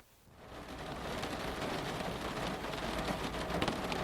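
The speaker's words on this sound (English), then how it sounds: "We had a bit of a downpour." Heavy rain downpour in the mountains, a dense steady hiss of falling water that swells in quickly and holds loud and close throughout, with no voices.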